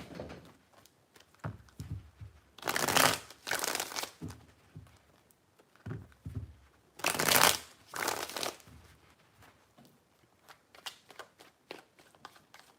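Tarot cards being shuffled up close in several quick riffling bursts, with soft handling rustles between them and no talk.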